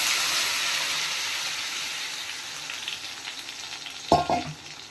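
Chopped tomatoes frying in hot oil for tomato pickle, a loud, even sizzle and hiss that slowly eases, with a brief clunk of the pan or spoon near the end.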